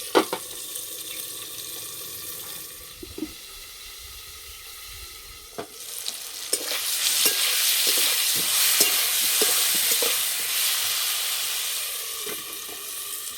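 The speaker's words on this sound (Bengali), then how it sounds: "দেবো হলুদ, নুন, ঢাকা দিয়ে টমেটোগুলো ভেজে নিতে হবে।" Tomatoes fry with turmeric and salt in a pan, starting with quieter handling and a few knocks, then rising into a loud, steady sizzle with stirring scrapes and clatters up close.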